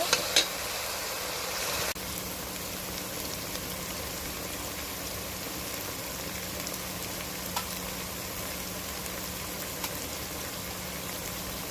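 Mutton pieces drop into frying spice masala with a brief clatter, then a constant, even hiss of sizzling oil carries on for several seconds at moderate loudness.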